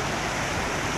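Floodwater rushing against the back wall of a residential colony during heavy flooding in Sialkot, Punjab, a dense, steady roar of turbulent flow throughout, close and loud with no talk.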